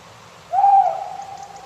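A single clear owl hoot, a thorny owl, rises out of near silence with a short tonal note that trails off, played as a quiz sound.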